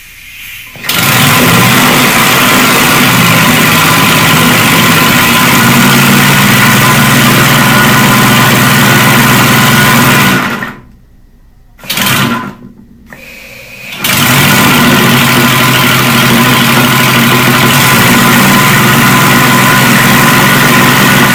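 A homemade compressed air engine runs at 125 PSI and about 1900 RPM, a loud, fast, continuous mechanical chatter that cuts out briefly and stutters before resuming steadily, with no talk.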